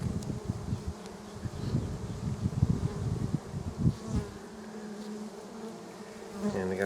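Honeybees buzzing around an open hive as it is inspected, a dense, steady drone of many insects close by, swelling and fading in loudness, with a few louder passes.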